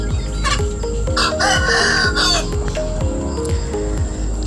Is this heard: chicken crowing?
yes